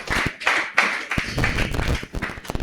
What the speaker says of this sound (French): Applaudissons l'Éternel.